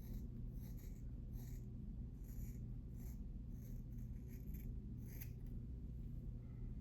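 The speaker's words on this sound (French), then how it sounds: "On va couper tout le stack ici." Scissors snip through thick dreadlocks close up, a series of faint crisp crunching cuts repeated at an irregular pace over a low steady background hum.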